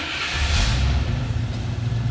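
A small block Chevrolet V8 in a 1968 Chevrolet Camaro Convertible runs with a deep, throaty rumble, slightly rising then holding steady, close and fairly loud.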